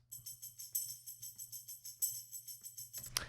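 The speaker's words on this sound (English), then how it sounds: "So I brought in this tambourine." A tambourine layer in a jazzy drum and bass beat, with fast, bright jingles repeating in a steady rhythm. It plays alone and faint, with a low hum underneath and a sharper hit near the end.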